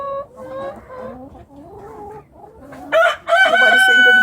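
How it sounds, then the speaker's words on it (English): A rooster crows loudly and close by in a backyard garden coop, a long ringing cock-a-doodle-doo at the end, after softer clucking calls from hens. "Nobody saying good morning except for the rooster."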